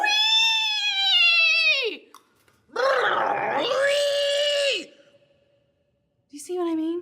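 A voice imitates odd furnace noises, producing long wavering groans and moaning tones with pauses between, then a short final squeak.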